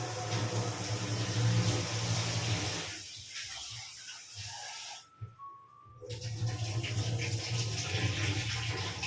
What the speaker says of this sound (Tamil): டேப்பு வாட்டர் போட்டு வாஷ் பண்ணிட்டேன்.